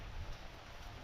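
Rain falling during a storm, a steady broadband hiss of drops on surfaces with no pauses, faint and distant over one brief second.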